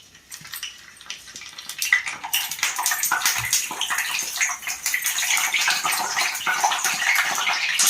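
Stuffed eggplants frying in a generous amount of oil in a pan, a steady loud sizzle and crackle that builds and holds throughout, with occasional utensil clinks and no talk.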